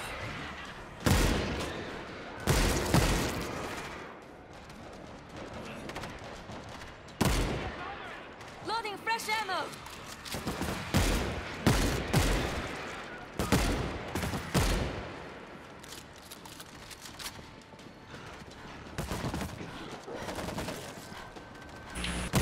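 Dense, rapid gunfire from the World War Z: Aftermath zombie shooter, mixing bursts of automatic fire with single loud shots in close, irregular volleys for about twenty seconds, under excited player talk.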